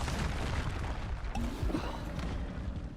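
Bombarda spell explosion in Hogwarts Legacy, a dull booming blast rumbling low and heavy within a continuous noisy game backdrop, with a brief tonal sweep midway.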